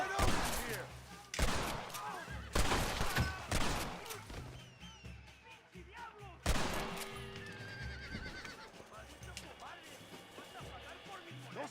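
Bursts of blind-fire gunshots in Red Dead Redemption ring out in quick volleys, mixed with a horse whinny and game ambience, loud and close, with someone talking over parts of it.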